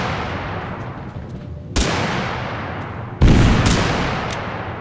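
Video game gunfire and a grenade blast in Totally Accurate Battlegrounds: two sharp, heavy booms about a second and a half apart, each followed by a long fading rumble over a steady noisy background, no voices.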